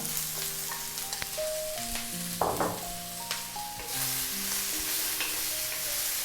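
Sliced beef tripe sizzles as it is sautéed in a hot pan for Filipino goto. Soft steady frying hiss with a brief sharp burst of sizzle partway through, mixed with faint tonal background music.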